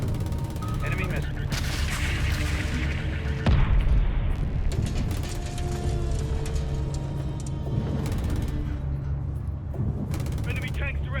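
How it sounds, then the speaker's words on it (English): An enemy missile explodes during a Call of Duty: Modern Warfare 3 campaign battle, one heavy boom rising out of a constant loud bed of artillery, gunfire and rumbling machinery, with battlefield radio voices mixed in. "Enemy missile."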